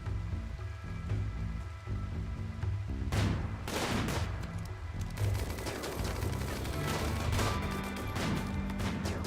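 Game gunfire in RimWorld crackles in dense, overlapping bursts of shots throughout, with no voices present.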